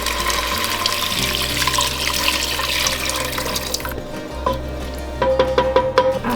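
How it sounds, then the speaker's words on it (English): Red wine and beef broth pour into a hot pot to deglaze it, giving a continuous loud liquid rush and sizzle that eases off midway, followed by a few clinks and bubbling. "now I'm going to deglaze the pot with 2 cups of red wine and 2 cups of beef broth"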